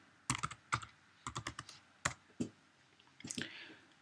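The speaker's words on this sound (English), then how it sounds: "We now enter the instruction ifconfig." Someone types a command into a Raspberry Pi terminal on a computer keyboard, producing close, crisp key clicks in short irregular bursts with brief pauses and no talking.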